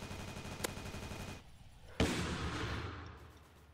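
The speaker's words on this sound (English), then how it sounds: "Let me shoot you." Gunfire in a Roblox base-battle game: a single sharp crack, then a loud blast about a second later that rolls into a sustained rumbling decay, heard alone without talk.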